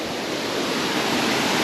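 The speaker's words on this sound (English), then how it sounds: "Look at that. It's a waterfall." A waterfall seen on a hike near a spot-prawn fishing area, heard as a steady, dense wash of falling water that fills the short moment evenly, with no voices over it.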